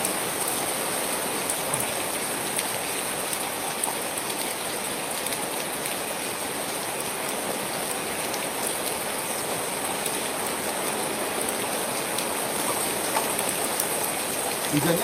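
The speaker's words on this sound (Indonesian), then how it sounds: "Kalian bisa dengar hujannya deras banget" Heavy rain pours down steadily and loudly over an abandoned village, a dense, unbroken hiss of drops striking surfaces that holds for the whole stretch with no pause.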